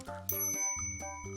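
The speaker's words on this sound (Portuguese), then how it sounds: "Uma campainha espetacular." The bell on an ENGWE E26 all-terrain e-bike rings out in about five quick, bright dings, close and clear with short ringing tails between strikes.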